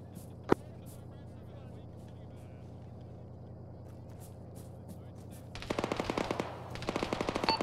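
A BMP armored vehicle's gun firing in an Arma ShackTac mission, heard after a long stretch of low engine rumble and one sharp shot, then rapid sustained bursts of cannon fire at moderate distance.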